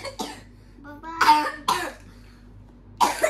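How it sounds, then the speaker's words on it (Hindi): A child coughs several times in separate harsh bursts, spaced unevenly, close by, with a low hum in the background. "हो रही है बहुत तेज खांसी"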